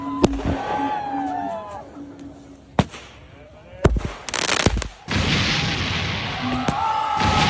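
Explosions and burning fire in a snowboarding stunt sequence: several sharp booms and bursts over a rushing roar, with whistling, crackling tones between blasts and a sustained loud blaze toward the end.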